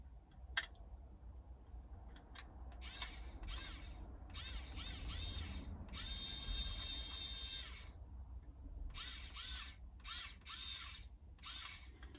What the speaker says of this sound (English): this is where you need a power tool